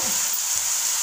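Fenugreek curry fries in a pan with salt, a steady close sizzle running alone throughout the short moment with faint stirring underneath.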